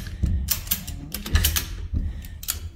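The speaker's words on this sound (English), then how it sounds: "Ratchet it until you see it pulling away from the ends." A ratchet strap wrapped around a strut spring being cranked to compress it; a series of close, loud mechanical clicks and clunks in irregular bursts.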